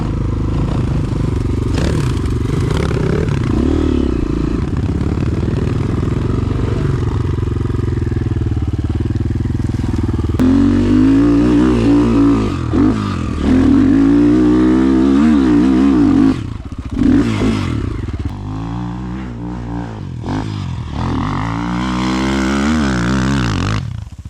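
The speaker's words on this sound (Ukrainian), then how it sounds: "на цьому мотику я даю газ" A Chinese enduro motorcycle in a 300cc versus 250cc race roars loud and close as it is ridden, its engine revving up and down repeatedly with rattling, clattering mechanical noise throughout.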